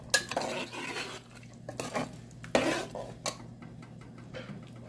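A spoon scrapes and clinks against a pot while taro root (arvi) masala is stirred with spices and fresh chillies, giving a series of close metallic taps and scrapes with a soft sizzle underneath.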